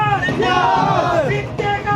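Large crowd at a village election rally in the Bagad belt, a dense, loud babble of many voices with raised shouts and chant-like calls rising and falling throughout.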